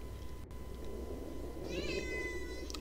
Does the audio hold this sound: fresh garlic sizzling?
no